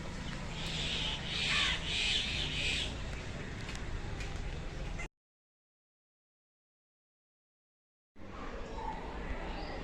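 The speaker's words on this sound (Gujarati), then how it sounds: "પક્ષીઓ આવી ગયા ખાવા" Crows caw repeatedly as birds gather to eat scattered biscuits, amid outdoor background noise, with a sudden silent gap before ambient sound resumes.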